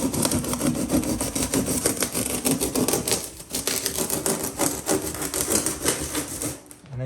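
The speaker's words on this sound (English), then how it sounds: "move the level back and forth and screed my mud job" A level is dragged back and forth across a curbless shower's mortar mud bed, producing continuous gritty scraping with a dense rapid rattling texture, close and fairly loud throughout, without speech.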